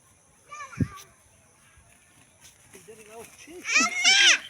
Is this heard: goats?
yes